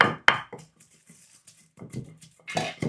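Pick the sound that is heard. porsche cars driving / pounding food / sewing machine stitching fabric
pounding food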